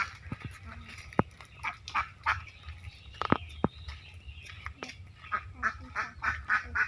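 Village ducks quack in scattered, repeated bursts at moderate distance, their calls coming irregularly throughout with quiet gaps between.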